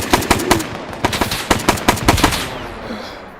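Rapid bursts of rifle and machine gun fire in a tactical military video game, sharp close shots in uneven volleys over about two and a half seconds, then fading into a quiet tail.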